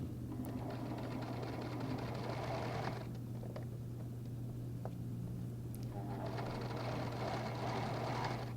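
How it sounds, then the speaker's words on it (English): A sewing machine stitches a dress facing, running continuously with a steady low hum and faint mechanical whirring, quiet and close, easing briefly in the middle before picking up again. "You sew the whole thing in."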